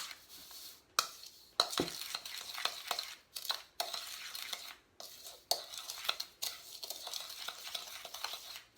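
Cinnamon sugar stirred in a bowl for churro coating, a steady gritty scraping and swishing with short pauses and occasional light clinks of utensil against the bowl, close and fairly quiet, with no talking.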